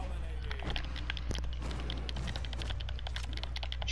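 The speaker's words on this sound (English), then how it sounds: "Why is he clicking so hard?" Hard, rapid clicking on a computer keyboard and mouse during a Brawlhalla match, a dense run of sharp taps over a steady low hum with faint talk in the background.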